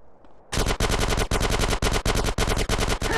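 Rapid bursts of gunfire from the GTA San Andreas video game, loud and close, with sharp shots repeating in a steady volley for about three seconds after a quiet start.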